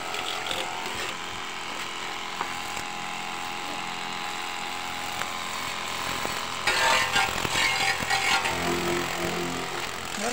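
A chargeable portable car wash device sprays water at a motorbike, a steady hissing jet under a constant mechanical hum that grows louder and rougher for a couple of seconds near the end.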